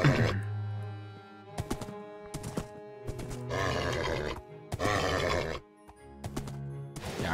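A Minecraft horse whinnies loudly several times in separate bursts, with quieter thuds and movement between the calls.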